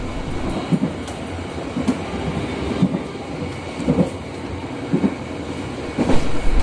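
Interior of a moving air-conditioned passenger train between Yogyakarta and Garut, with a steady low rumble and periodic clickety-clack thumps from the wheels on rail joints, roughly once a second.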